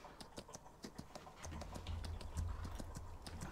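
A horse's hooves clip-clop in a steady walking rhythm in the Farming Simulator 19 video game, crisp close hoofbeats over a low ambient hum that swells midway.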